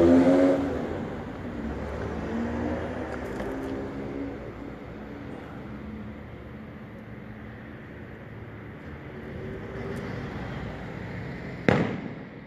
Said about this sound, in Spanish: Son cohetes.